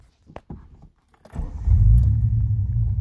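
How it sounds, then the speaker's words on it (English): A car engine cranks and catches after a killswitch is flicked back on, following a few clicks, then rises into a steady close idle rumble. "car turns back on."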